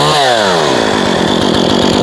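A Solo by AL-KO 6656 chainsaw roars loudly and close, its engine pitch climbing and holding at a steady high whine while it makes its first cuts, with a slightly rattly running note.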